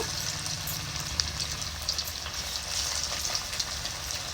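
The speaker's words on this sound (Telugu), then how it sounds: "నూనె కాగింది ఇంకా ముక్కలు వేస్తున్నా చూడండి" Fish pieces fry in hot oil on a wood-fired stove, a continuous dense sizzle close by with a few small pops and crackles.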